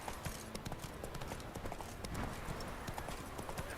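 Roach, a horse in The Witcher 3, trotting with quick, even hoof clops close by, steady for the whole stretch at a moderate level, with faint ambient noise underneath.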